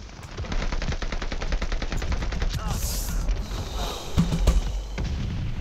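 Rapid, sustained automatic gunfire from the Call of Duty Vanguard video game fills the scene in a dense, fast rhythm. A few heavier booming shots land near the end.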